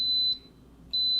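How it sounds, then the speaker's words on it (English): A rice cooker beeps on start, a sharp electronic tone at the opening and another near the end of a faint, quiet room. "It gives its triple beep."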